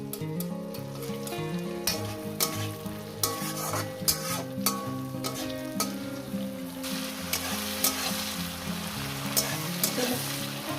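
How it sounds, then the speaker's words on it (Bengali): Ghee goes into dal cooked with whole rohu fish heads, giving a soft steady sizzle while a utensil stirs and scrapes the pot in repeated clinking strokes, close and fairly quiet. "দিয়ে দিলাম ঘি আমি এখনই ঘিটা দিয়ে দিলাম"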